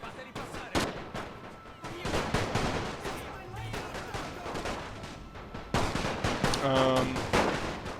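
Dense, overlapping gunfire and artillery shells land all around in a World War I strategy game with an Austro-Hungarian army, a steady barrage of sharp cracks and booms filling the whole stretch with no let-up.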